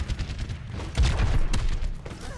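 Gunfire in Overwatch as a player shoots over a wall: a quick cluster of loud, close shots with heavy low thumps, peaking midway then tapering off.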